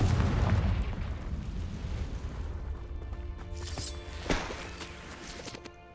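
Confringo blasting spell explosion in Hogwarts Legacy: a loud low boom opens, then decays into rumble with a sharper burst and crackle near the end.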